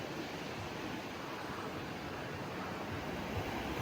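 Waves washing steadily along the shoreline at Frenchman's Cove, St. Thomas, as a constant broadband surf rush with some wind noise and no clear breaks.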